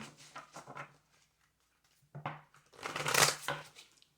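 A deck of cards is riffled and shuffled in a few quick bursts, with a louder flurry near the end, up close.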